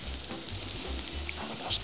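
Chicken frying in a pan gives a steady, close hiss of sizzling oil that runs unbroken throughout.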